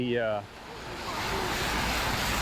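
Fast-flowing flood water in a street, heard as a steady, loud rushing roar that swells after a brief voice at the start.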